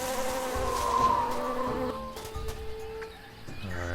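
A bee buzzing in the Tales of Monkey Island video game, a steady droning hum that wavers in pitch over a few seconds, with soft game ambience and faint clicks around it.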